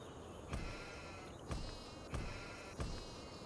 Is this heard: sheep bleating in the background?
yes